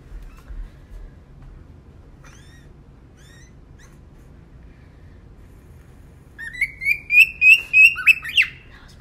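A small pet bird, wound up after too much watermelon, gives a few faint scattered chirps and then breaks into a rapid, loud burst of repeated squawking calls near the end.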